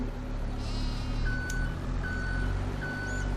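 Sheep bleat in a farming survival video game, short calls set over a steady low hum of machinery, with a thin repeating electronic tone recurring alongside.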